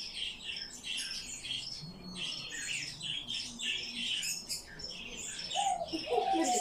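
A swallow chirps steadily while bathing in a small puddle, bright high calls repeating over faint splashing, with louder close chirps near the end.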